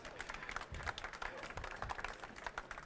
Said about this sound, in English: Some real live applause